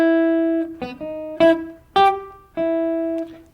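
A guitar melody played with jazz swing eighth notes: roughly six plucked notes in a lilting long-short rhythm, each ringing cleanly and alone before the next, with the last note sustaining.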